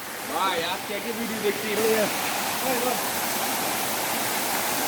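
Khoiyachhora waterfall in the Sitakunda hills of Chittagong pours with a constant roaring rush, while people talk briefly over it nearby.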